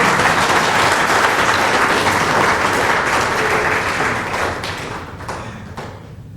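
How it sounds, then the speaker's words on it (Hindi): An audience at a book launch claps loudly and continuously, and the applause thins out and fades over the last couple of seconds. "तो आप अरविंद जी के लिए इस बात के लिए पक्की तालियां बजा दीजिए"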